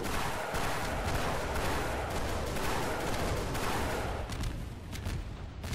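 Continuous dense gunfire and blasts from a Garry's Mod battle between Star Wars Imperial TIE Bombers and modern military helicopters, loud and sustained with rapid bursts throughout and no talking.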